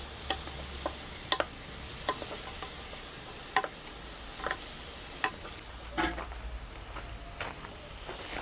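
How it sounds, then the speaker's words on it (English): Onions cooking slowly in butter in a pan, a gentle steady sizzle with scattered clicks and taps of a utensil stirring now and then. "so the onions are coated with butter. They're cooking."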